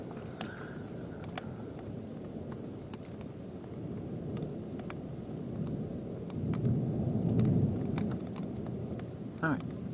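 Thunder rumbles through a severe thunderstorm with high winds and hail, a broad low roar swelling louder toward the end over steady rain and wind noise, with faint voices in the background.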